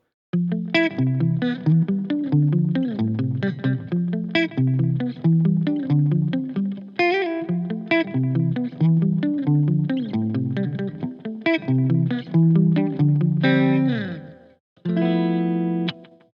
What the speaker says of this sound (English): you can emulate a sort of a reverb sound with your delay